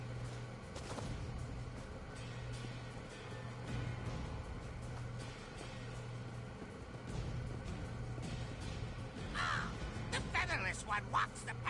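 Crows caw in The Elder Scrolls Online, a few harsh calls rising near the end over a steady ambient game hum and low background tones.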